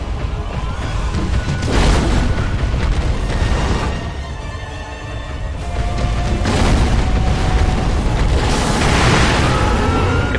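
A firecracker prosthetic tool bursts during combat in the video game Sekiro, loud booming blasts and crackling impacts layered over game action, with a voice talking over it.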